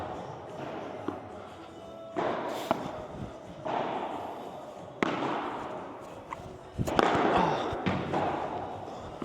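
A padel ball is struck with a racket several times at irregular intervals, giving sharp close thwacks with court noise between hits and some brief talk.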